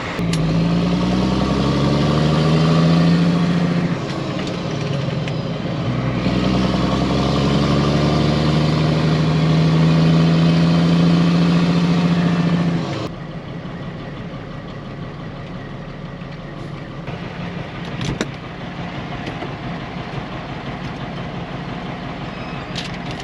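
Hay trucks rumble through the pit with loud, steady engine drone and a rising whine in the first half, then a lower, rougher idling rumble continues after a sudden drop.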